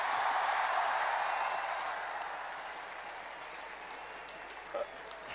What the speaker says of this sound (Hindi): एक बार जोरदार तालियों से इनका स्वागत करिए।